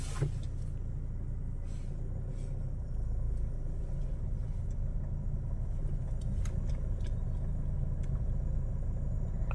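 A red Toyota Hilux in Call of Duty rolls past with a steady low engine rumble and road noise that holds at an even level for the whole stretch, with no talking over it.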